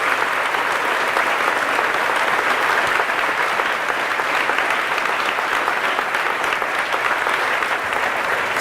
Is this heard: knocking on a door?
no